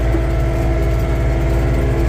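A John Deere 3046R compact tractor engine runs at about 2,200 RPM, giving a loud, steady, close drone with no change in pitch and no talking.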